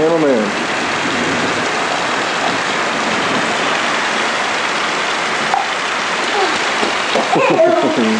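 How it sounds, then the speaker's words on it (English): Hail falls steadily on a house during a storm, a dense, continuous patter and hiss close by with a few faint voices rising near the end. "It's almost hitting the house. All kinds of hail."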